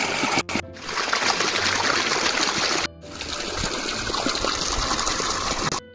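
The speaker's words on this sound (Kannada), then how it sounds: "ಪಂಪಿನ ಮೂಲಕ ನೀರನ್ನು ಹಾಕಿದ್ದಾರೆ ನೋಡಿ" Pumped water pouring steadily into a rice paddy field in a village, a loud continuous rushing gush close by, briefly interrupted twice, with no voices.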